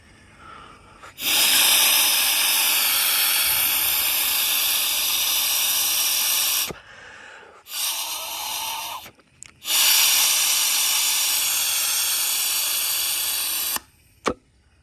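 Air is blown through a heated diesel fuel filter valve on a Jeep WJ 2.7 with a Mercedes engine: long loud hissing blasts with brief pauses between them, then a short sharp click near the end.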